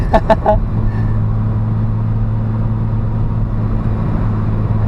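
A Nissan Fairlady Z pulls hard in third gear at full boost, its steady engine drone loud and close from inside the car, with a few quick clicks at the start.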